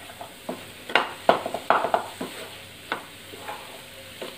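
Chicken liver coated in spice powders is stirred in a pan over low flame, giving a soft background sizzle broken by a series of sharp scraping and clinking strokes of the spoon, close and fairly quiet, with no talking.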